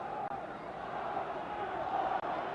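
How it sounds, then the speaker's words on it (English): Boxing arena crowd at a Floyd Patterson versus Oscar Bonavena heavyweight fight, a steady dense roar of cheering voices urging Patterson on, loud and continuous with two brief dropouts. "the crowd is starting to urge Patterson on"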